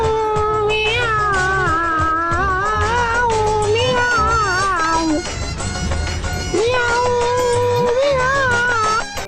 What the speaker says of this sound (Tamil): பூனையை வம்பிழுக்கிறதே ஒரு ஆனந்தம் தான்.